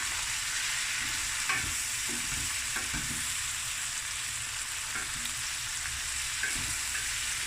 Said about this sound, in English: Let butter melt.